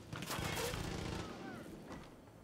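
Gunshots ring out in the video game Far Cry 5 as a player free-aims at an enemy, a dense burst of cracks up front that thins into a softer echoing tail, with a voice speaking faintly underneath.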